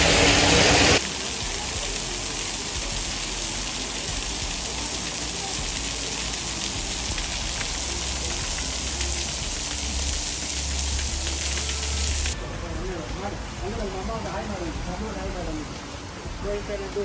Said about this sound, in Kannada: ಮಳೆ ಬರ್ತಿರೋ ಒಂಚೂರು ಹನಿ ಆಗ್ತಿದೆ